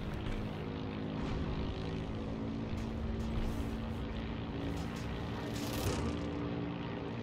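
Curtiss O-52 Owl propeller plane flying in the video game Heroes & Generals, a loud continuous engine and propeller drone with slight swells in intensity.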